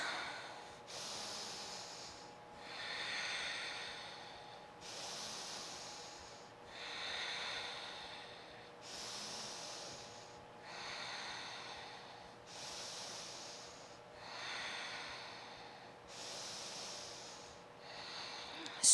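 Slow, deep breathing during a yoga warrior two pose: about eight long, even breath cycles, each a soft airy hiss in and out, close and steady with no talk.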